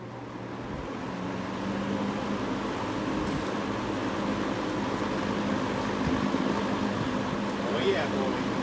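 A vintage box fan hums steadily with a low, continuous airy whir, close and constant throughout with a faint tonal drone beneath.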